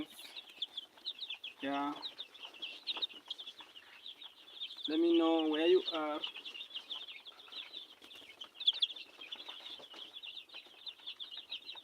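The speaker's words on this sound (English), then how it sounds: "We are having chickens." Farm chickens in Kisii, Kenya, cluck and chatter steadily, with two bursts of louder squawking calls and some flapping, while someone speaks briefly over them.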